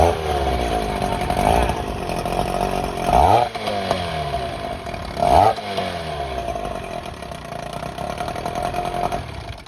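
A small 15-horsepower outboard boat motor buzzes loudly and continuously, its pitch rising and falling with two brief revving surges, heard up close.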